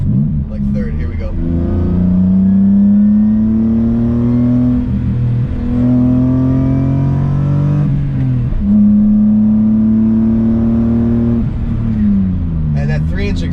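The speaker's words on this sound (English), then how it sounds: "that 3-inch exhaust with the vibrant parts is just heaven. Like, the noise is so good" A BMW E30 with an M50 engine swap and a 3-inch exhaust revs loudly up through the gears, with rising engine tones broken by short shift pauses and a steady drone between pulls.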